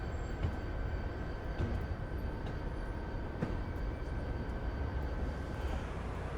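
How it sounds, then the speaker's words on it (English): An Amtrak train in Train Simulator 2016 pulls away from a station with a steady rumbling roll and a faint high whine, joined by periodic rail clicks at moderate distance. "there's an Amtrak departing the station"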